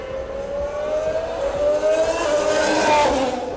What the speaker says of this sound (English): It is next to impossible to film audio here because these cars are so loud.